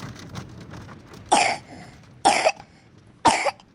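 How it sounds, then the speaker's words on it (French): Three sharp, separate coughs from a girl ring out about a second apart against a quiet background. "Le 2e jour, Carrie a commencé à tousser."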